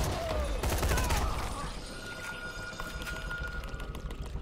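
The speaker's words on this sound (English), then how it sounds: "Why did I use my shotgun for this?" Shotgun blasts in the video game Dying Light, loud close reports at the start that fade into a busy, rattling game soundscape over a few seconds.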